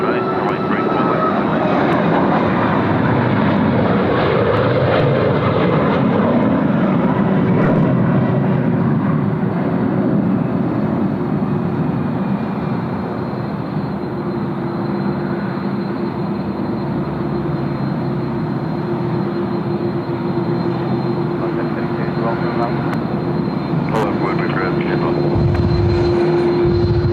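A loud, steady roar from a Korean Air Boeing 787-10's jet engines at Sydney Airport drones throughout, with a constant whine on top and voices faintly underneath.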